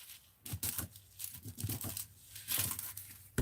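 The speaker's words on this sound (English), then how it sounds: "And I'm going to cut right here." Craft material for an art journal is cut, giving several crisp crinkling, snipping bursts in an irregular rhythm, close and fairly quiet, with no talk.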